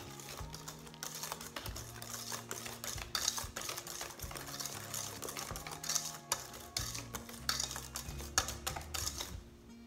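Chocolate cannelé batter being mixed with rum, heard as rapid, steady clicking and tapping of a whisk against a bowl, close and soft with a faint hum beneath, with no voice.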